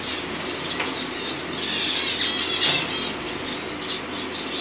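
Gouldian finches in an aviary flutter their wings in bursts, with small chirps and tweets scattered through the fluttering, close by and with no talking.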